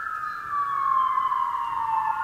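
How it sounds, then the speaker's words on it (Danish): A fire truck siren wails steadily in a long, slowly falling tone, heard at moderate distance over a quiet background with no speech. "Ah, brandbilen."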